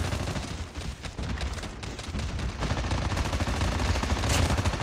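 Dense, rapid gunfire in Call of Duty Mobile's Undead Siege zombie mode, bursts overlapping in a continuous rattling barrage, loud and close throughout.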